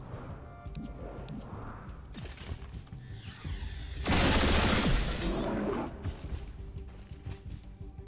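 Gunfire in the video game XCOM: Chimera Squad bursts out mid-way as a dense, loud volley lasting about two seconds, set against steady mechanical game ambience and clattering effects before and after.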